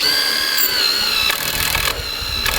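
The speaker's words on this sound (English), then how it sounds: "Just need to clean up some of the welds real quick with an angle grinder" Angle grinder cleaning up welds on a metal platform frame, a steady high-pitched whine close by that shifts into harsher grinding bursts as the disc bites the metal, with no talk.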